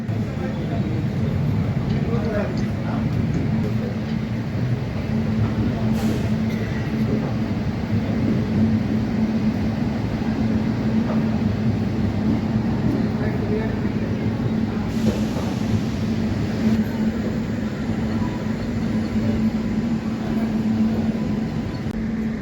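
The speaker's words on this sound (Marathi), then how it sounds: "आपली सिद्धेश्वर सुपरफास्ट एक्सप्रेस पोहोचली आहे मोहोळ रेल्वे स्टेशनवर" The Siddheshwar Superfast Express stands at Mohol railway station with a steady low rumbling drone and faint murmuring voices in the background.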